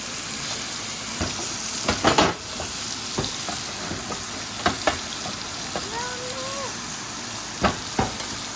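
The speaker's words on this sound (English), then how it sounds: "Spoon the butter over the steak." Filet mignon sears in butter in a cast iron skillet, giving a constant close sizzle with occasional sharp clinks and taps as butter is spooned over the steak.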